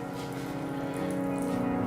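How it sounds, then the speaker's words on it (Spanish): A faucet runs steadily at a hand-washing sink, a continuous gush of water that does not clearly stop, heard alone without talk. "Y por último cerraremos el grifo"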